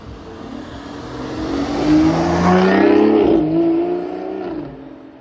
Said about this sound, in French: Oh le V12, la Vanquish S.